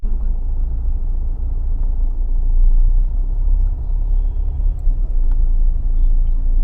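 Dense evening road traffic in a city, a continuous close rumble of cars and engines passing steadily with no breaks.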